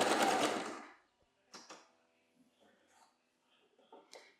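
A sewing machine stitches swimwear elastic, backstitching with a loud close burst of running followed by short, quieter stitching spurts and pauses.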